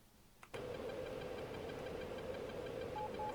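F-15 jet engine in the DCS flight simulator game surges up after a brief quiet start, then holds a loud, steady roar with a strong whining drone throughout.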